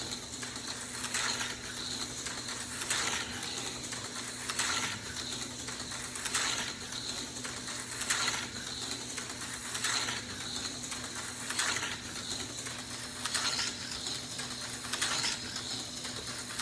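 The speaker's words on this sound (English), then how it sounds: "But here's the Tyco, about half throttle." A Tyco slot car runs laps at about half throttle on an oval track in a garage, giving a steady mechanical whir. The whir swells in a regular rhythm every couple of seconds as the car comes by on each lap.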